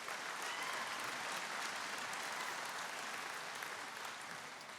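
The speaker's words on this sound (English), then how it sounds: "Round of applause for Alex Field." A crowd at an evening awards night for a young farmer contest gives a continuous, even round of applause, dense clapping from many people heard at a distance.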